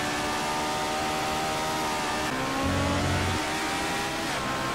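BMW 320 race car engine accelerating at Magny-Cours in GT Legends, a steady loud drone of revs with harmonics rising and shifting through gears, continuous and alone with no talk.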